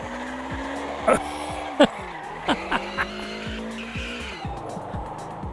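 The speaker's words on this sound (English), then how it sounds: "That's a new tyre squeal sound I've never heard before." Car tyres squeal and skid on a race track through repeated sliding chirps and whines over a straining engine, with several sharp bursts as the car scrabbles for grip, heard up close.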